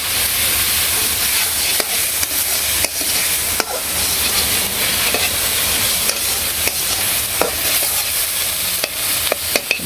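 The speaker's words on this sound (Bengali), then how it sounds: "ভালো করে ভাজতে হবে," Kharkon leaves fry in oil in a village kitchen, making a loud, continuous close sizzle broken by sharp clacks and scrapes of a spatula stirring the pan; no talking.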